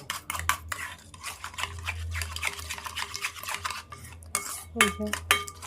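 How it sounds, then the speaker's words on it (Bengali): Sugar being beaten in a bowl for a fruit salad, a quick continuous run of close scraping and clinking strokes of a utensil against the bowl, no speech. "যতক্ষণ না চিনির দানাগুলো গলে যায় ততক্ষণ একটু ফেটে নিব।"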